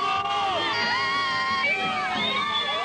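An excited crowd of fans shouts and cheers as the singer arrives, a dense, continuous wall of high-pitched screaming voices close by, without pause.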